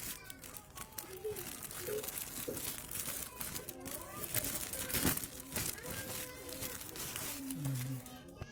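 Plastic wrapping crinkles and rustles as a package holding a translated Mabadi Awaliyah kitab book, sent from Malang, is unboxed up close, with intermittent crumpling under quiet talk in the background.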